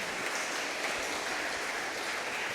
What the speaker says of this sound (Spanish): vamos a darles un aplauso de bienvenida